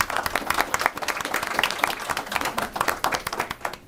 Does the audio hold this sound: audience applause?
yes